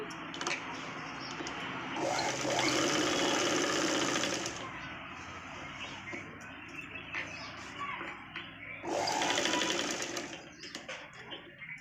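A sewing machine runs in two loud bursts while double-stitching a Punjabi dress top, a fast whirring rattle with quieter room sound and faint bird chirps between the runs.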